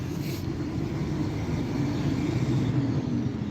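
A noisy truck idles nearby at a carp-fishing bank in Canada, a steady low engine rumble at moderate level with slight surging and no speech over it.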